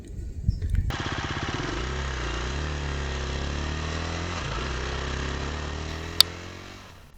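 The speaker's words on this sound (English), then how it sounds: "Let's go take the bike for a ride and get some footage off-road" A motorcycle starts up and rides off-road, its engine droning steadily and loudly close by with rising and falling revs, plus one sharp knock near the end before it fades out.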